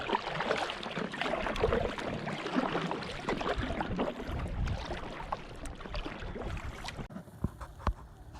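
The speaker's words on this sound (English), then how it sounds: "I paddled downstream about a mile to the mouth of Boy Scout Canyon" Packraft paddled downstream on a river, with steady rushing water and broadband wash throughout, irregular splashes and knocks, and a quieter stretch near the end with a few sharp taps.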